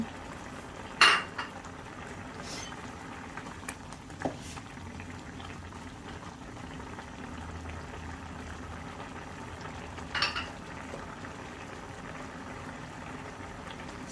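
Broth simmers in a pan for a khao-style bamboo shoot and pork belly dish with kaffir lime leaves, giving a steady low bubbling bed at moderate level, broken by a few sharp utensil clinks near the start and around ten seconds.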